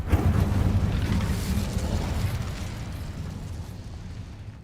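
A fire spell cast in the Hogwarts Legacy video game bursts with a loud, broad whooshing roar that gradually fades over several seconds, with no talk over it.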